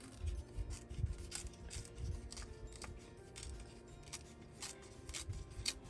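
Scissors trim scrapbook paper up close in a run of quick, quiet snips and paper rustles, repeated irregularly at low volume.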